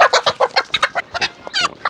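A chicken at a luxury estate clucks in a quick, uneven run of loud, close bursts, about a dozen short calls with no talking.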